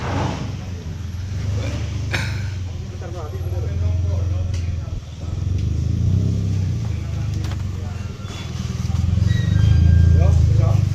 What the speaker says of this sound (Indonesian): Ini video running test mesin multi.